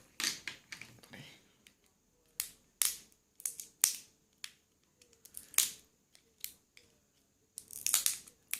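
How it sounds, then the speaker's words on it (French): A utility knife slicing through the plastic packaging of a laser thermometer, heard as a run of crisp, close cutting and snipping clicks in irregular bursts, with no talk. "Un petit coup de cutter et c'est bon."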